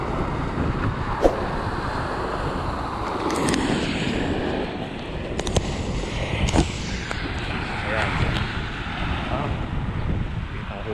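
Strong wind buffets the microphone over rough, choppy sea during a long-distance ride, a steady roar with splashing waves and scattered gusts, while a voice speaks briefly.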